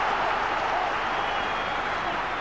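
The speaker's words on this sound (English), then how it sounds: "The entire crowd shouted shoot then." A packed football stadium crowd at a 2001 Intertoto Cup final shouts together for a shot, a loud, sustained roar with no single voice standing out.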